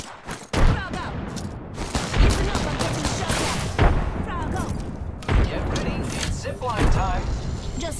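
Heavy automatic gunfire in the shooter Apex Legends, near and continuous, with bursts of rapid shots, booms and clanking mechanisms layered under a voice talking throughout.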